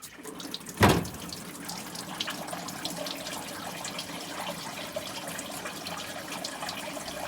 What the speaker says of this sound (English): This is all water just pouring out of the air conditioner compressor in the engine compartment.